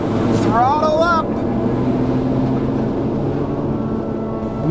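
A small aircraft's engine throttles up for takeoff from a snowfield in Antarctica, a steady loud drone with a rising pitched whine near the start, while a voice speaks over it.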